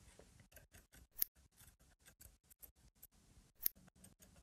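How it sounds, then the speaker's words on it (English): Scissors snip through the threads of mark stitches on a traditional tailored jacket, a steady run of quick, crisp, close cuts with two sharper clicks standing out, no voices. "Once you're done cutting through all the threads"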